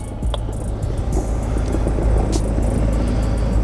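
A 4x4 tows an Xplore RV X145 off-road camper trailer along an icy off-road trail, its engine giving a steady low rumble throughout with a few faint knocks and scrapes over the top and no talking.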